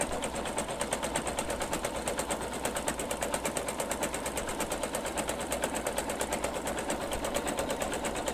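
An embroidery sewing machine winds a bobbin with a fast, even mechanical whir and rapid regular ticking, steady and close throughout with no voices.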